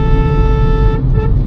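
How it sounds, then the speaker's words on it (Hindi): Car horn honked by a driver overtaking in city traffic, a single loud, sustained toot right up close that cuts off after about a second over a low road rumble. "मैंने हॉर्न बजाया"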